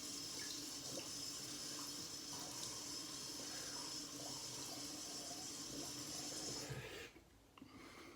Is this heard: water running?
yes